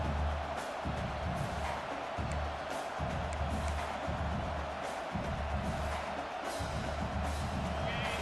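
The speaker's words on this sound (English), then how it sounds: "This crowd trying to make life miserable for this offense." Stadium crowd in the College Football 26 video game, a dense, steady roar of cheering and shouting that fills the whole stretch, loud and continuous with faint low rumbling pulses underneath.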